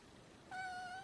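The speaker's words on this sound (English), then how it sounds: "Excuse the cat." A domestic cat gives a single short, clear meow close by, with no talking.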